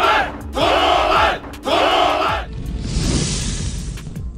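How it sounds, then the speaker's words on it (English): A loud anime crowd roars and cheers after a disbandment announcement, opening with two big shouted bursts of yelling and then settling into a dense, sustained wash of cheering voices. "and the crowd cheers."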